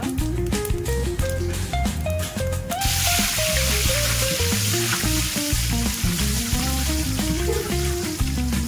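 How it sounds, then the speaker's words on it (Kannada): Cumin and fenugreek seeds fry in a hot pan, giving a loud, steady sizzle with light stirring under soft background music. "ಸ್ವಲ್ಪ ಫ್ರೈ ಆಗಬೇಕು."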